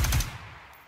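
A single loud gunshot in Ground Branch, heavy and close at the very start, then fading quickly into a quiet tail with a faint click at the end.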